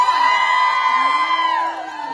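Supporters at a stage show cheer with loud, drawn-out whooping voices that rise and fall together, then ease slightly toward the end.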